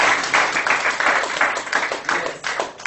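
Audience at a women entrepreneurs' event in Bamenda applauding themselves, a loud, close burst of clapping with distinct individual claps and slight swells, ending abruptly.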